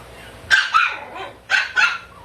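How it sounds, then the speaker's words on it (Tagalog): A male Pomeranian at a pets and livestock market gives four sharp, close yapping barks in two quick pairs, with quiet background between them. "Sa bird type na Pomeranian natin na male."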